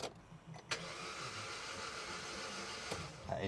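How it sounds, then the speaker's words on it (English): A worn small car engine, apparently low on compression, cranks and catches, then runs at a rough, uneven idle, close by and fairly quiet, with a couple of sharp clicks. "That engine sounds knackered and all."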